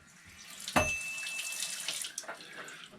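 Warm water runs from a bathroom tap in a steady splashing stream, starting abruptly with a loud gush and continuing close and clear into the sink.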